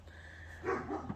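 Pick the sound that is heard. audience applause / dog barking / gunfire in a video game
dog barking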